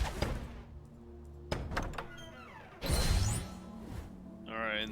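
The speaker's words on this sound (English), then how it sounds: "the door opens, but we can't go" A door in the Lego Harry Potter video game opens with a game sound of a heavy thunk and a sliding whoosh, followed by further mechanical clunks, mixed with game background sounds.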